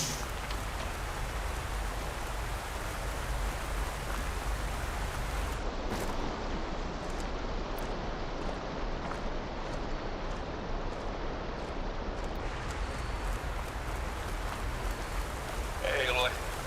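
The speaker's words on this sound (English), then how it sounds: "Raining once again." Rain falls in the video game Horizon Forbidden West as a constant, even hiss of downpour that carries on unchanged throughout.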